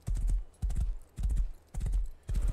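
Horse hooves in the survival video game Rust, clip-clopping in regular clustered bursts about every half second, close and steady, with no talk over them.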